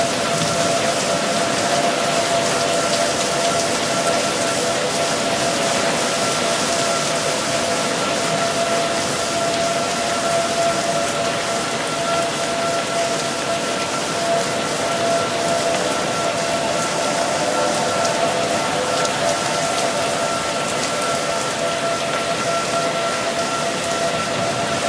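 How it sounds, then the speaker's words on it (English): Steady rain falls outdoors among trees, a continuous broadband hiss with a faint tonal hum running underneath, holding fairly even as the shower eases a little; no one speaks. "Now it's letting up a little bit on rain."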